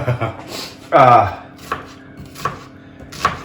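Onions chopped on a cutting board in a kitchen, with irregular knife thuds spaced through the clip, close and fairly loud, and a brief voice-like sound near the middle.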